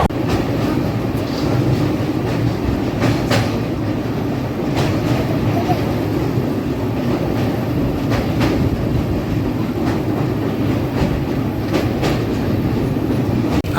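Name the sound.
LHB passenger train running on rails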